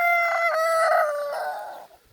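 A young rooster crows once, a loud, strained call lasting nearly two seconds that trails off at the end.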